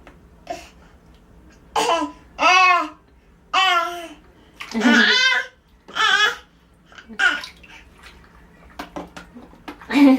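A baby in a bathtub makes a series of short voiced smacking and babbling sounds in separate bursts, close and fairly loud, with faint water noise underneath.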